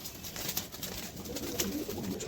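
Pigeons coo softly nearby amid faint rustling and background noise, with no voices.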